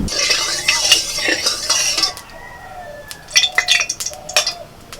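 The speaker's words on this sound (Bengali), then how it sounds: "চিচিং শাক বেশিক্ষণ ভাজে না অল্প একটু ভাজতে হয়" Chichinga greens are stirred briefly in a pan in a home kitchen, with a utensil scraping and clinking against the metal in quick bursts and a quieter pause between them.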